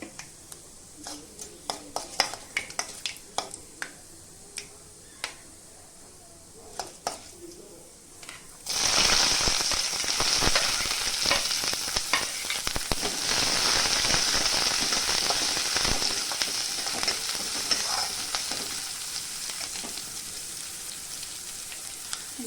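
A sudden loud sizzle as chopped shallots hit a hot pan, then a steady crackling fry that continues with occasional stirring scrapes.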